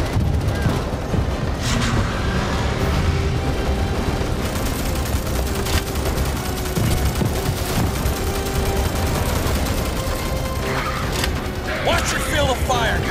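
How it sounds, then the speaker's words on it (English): Gunfire in the video game Starship Troopers: Extermination during a base attack, dense continuous shooting from many weapons with explosions and mechanical clatter, loud and sustained, with radio voices talking over it. "Watch your field of fire! You're shooting friendlies!"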